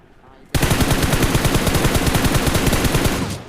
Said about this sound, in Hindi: कोई दूर से मुझे UMP सप्रेस UMP चला रहा था